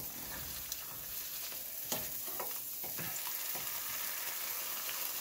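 An egg frying in a pan for a loco moco gives a steady soft sizzle with a few sharp scraping clicks from stirring or flipping. It stays fairly quiet and close, with no talk.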